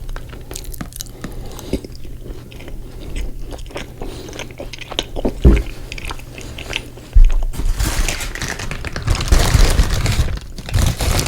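Close, wet biting and chewing of a fast food cookie dipped in milk at a mukbang meal, with a few sharp bites and a louder burst of crunchy mastication toward the end.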